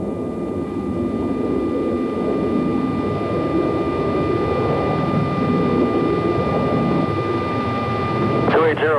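F-14 and F-16 jet engines in the combat flight game Air Combat, a steady roaring rumble with a high whine, close and continuous, ending in a short electronic chirp.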